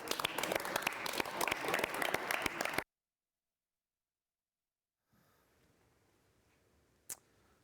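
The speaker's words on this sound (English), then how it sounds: "Let's give ourselves a round of applause" A burst of clapping from a crowd for about three seconds, then abrupt silence and faint room noise with a brief knock.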